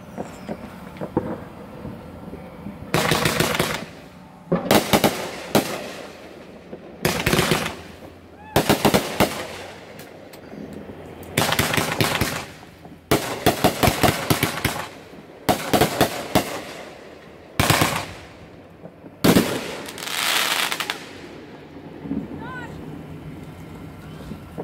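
Fireworks go off in repeated bursts of loud crackling and popping, separated by short quiet gaps, with wind buffeting the microphone and a voice briefly speaking between bursts.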